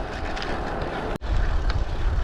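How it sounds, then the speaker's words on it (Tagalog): Strong gusting wind buffets the microphone while cycling along the Newry Canal on a windy solo ride, a loud continuous low roar with a brief dropout midway. "Walang uphill pero hangin lang."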